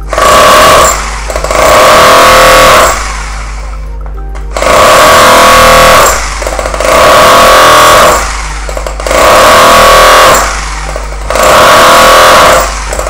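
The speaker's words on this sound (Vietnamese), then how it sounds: "ba chức năng đục bê tông khoan bê tông và khoan thường" A Bosch 220V three-mode rotary hammer drill chisels concrete in loud, close bursts of harsh rapid hammering, five runs of about two seconds each separated by short pauses, with no voices.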